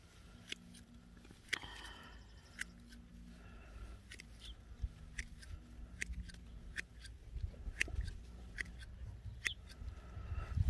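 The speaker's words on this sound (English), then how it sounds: "And we're gonna cut back this oregano." Scissors trimming oregano plants in an Ohio summer garden, heard as faint, sparse snips scattered across the clip against quiet outdoor background noise.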